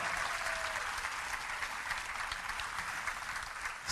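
Church congregation applauding in a sustained, dense wash of clapping at moderate distance, steady and unbroken for a few seconds with no talk over it.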